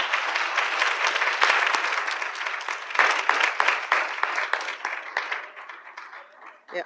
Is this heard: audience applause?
yes